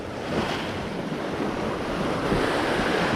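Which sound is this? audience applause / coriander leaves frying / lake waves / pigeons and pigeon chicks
lake waves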